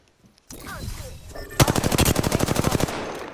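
Apex Legends gameplay: after a brief muffled scuffle, a loud, rapid automatic weapon burst of about fifteen evenly spaced shots rings out close up, then quickly dies away.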